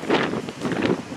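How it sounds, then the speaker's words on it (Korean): Strong wind gusts buffet the microphone on a Jeju Island coastal road beside the sea, two loud rushing bursts close up with no talking. "바람이 너무 많이 불어서 들어가야겠어요"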